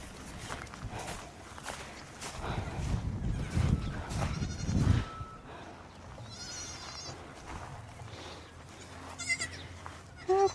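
Goats bleat outdoors on a farm, a few wavering cries over a rustle of hooves and movement, close by and moderately loud, with no talking.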